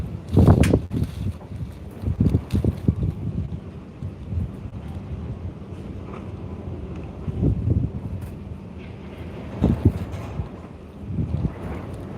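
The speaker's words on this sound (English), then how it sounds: "it is a bit windy now" Gusty wind buffets the microphone in low, rumbling bursts that rise and fall, with no other clear sounds, beside the River Itchen.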